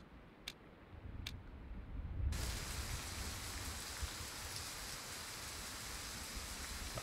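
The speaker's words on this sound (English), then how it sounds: "That rain." Steady in-game rain in the hunting game Way of the Hunter, a dense hiss of falling drops that swells after a couple of seconds and then holds even and close, with a few faint ticks early on and no talking.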